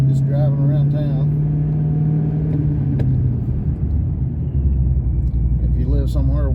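A Paxton-supercharged 550 rwhp 3V Ford Mustang cruising around town, its engine a loud, steady low rumble from inside the car with a slight rise as it pulls away, while a person talks over it.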